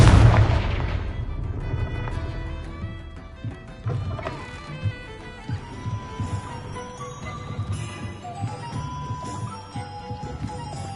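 A Confringo spell explosion in Hogwarts Legacy: a deep, heavy boom at the start that rumbles and fades, followed by scattered smaller bursts over a sustained musical score.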